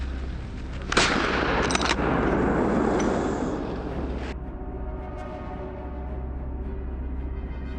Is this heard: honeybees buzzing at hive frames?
no